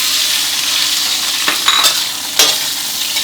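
Loud continuous sizzle of shrimp stir-frying in a hot wok, with a couple of sharp scraping strokes of a spatula.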